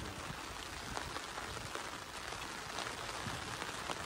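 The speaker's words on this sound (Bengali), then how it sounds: "ভালোই বৃষ্টি শুরু হলো।" Rain falls steadily outdoors during a fishing trip, a dense, even patter of drops on surfaces throughout, fairly faint, with no talking.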